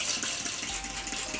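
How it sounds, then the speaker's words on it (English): Water is sprayed onto a section of hair from a spray bottle, a close, hissing burst of spray that pulses faintly as the trigger is worked, with no talking. "I'm going to take the water and I'm going to just spray it onto the"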